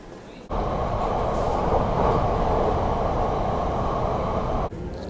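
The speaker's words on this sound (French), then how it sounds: "j'avais chopé le bon métro" Interior of a London Underground metro train in motion, a steady loud rumbling roar that swells in as the train gets going and holds until an abrupt change near the end, with no talking.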